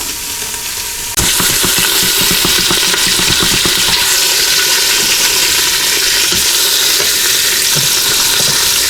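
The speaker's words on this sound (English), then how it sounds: "I have this on saute mode with a little bit of olive oil in there. I'm gonna brown them up a little bit" Pork ribs browning in a little olive oil inside a pressure cooker on saute mode give a steady, loud close sizzle and crackle, with a brief quieter moment before the frying noise jumps up and holds.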